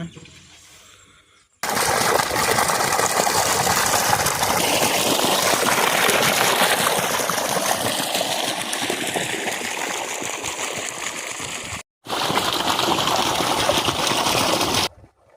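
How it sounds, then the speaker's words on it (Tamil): A steady, loud rush of water gushing from a pump into a paddy field, with a motor hum underneath, starts abruptly, runs continuously, then briefly cuts out and resumes. "மிஷின் ஆன் பண்ணிட்டேங்க."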